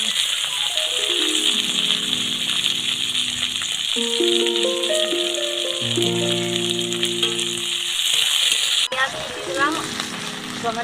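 Chopped onion, tomato and green chili sizzle and rattle steadily in a pan, a continuous loud frying hiss with occasional stirring, alone without talk.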